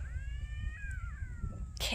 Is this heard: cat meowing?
yes